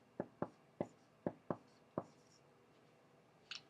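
A pen or marker writes on a surface in a quiet room, making six or seven distinct taps and strokes in an uneven rhythm, then a brief pause and one final short scratch.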